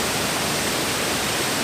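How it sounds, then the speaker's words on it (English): A Canadian waterfall gives a steady, dense roar of rushing water, a continuous broadband wash with no pauses and no voices. "got me some waterfalls"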